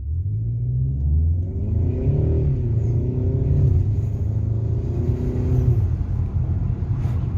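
A BMW 128ti in sport mode with an 8-speed automatic accelerates in a short burst on a suburban street. The exhaust note climbs loud and close, with quick gear shifts audible as the engine pitch drops and rises again.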